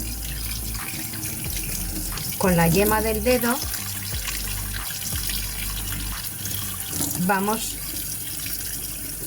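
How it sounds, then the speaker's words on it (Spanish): Cold water runs from a kitchen tap over eggshells being rinsed clean, a steady splashing stream under a voice talking. "Bajo el grifo, agua fría"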